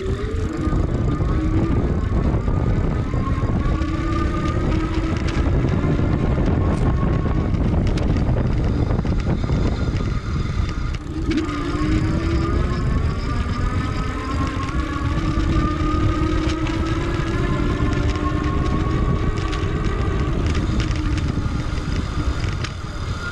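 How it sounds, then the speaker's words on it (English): A 2020 Surface 604 Rook e-bike's rear hub motor spinning up on throttle at top assist toward 20 mph, a rising whine that climbs in pitch more than once, heard under loud, continuous wind rush. "I'm just going to use the throttle so you can listen to the motor back there."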